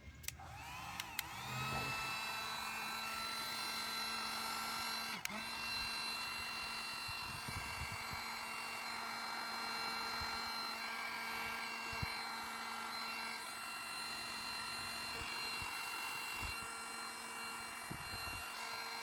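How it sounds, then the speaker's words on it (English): Heat gun blowing on soft rotted wood, clicked on after a couple of clicks, then a steady high-pitched fan whine and airflow hiss held for many seconds with a few small knocks. "or if you're impatient, heat gun"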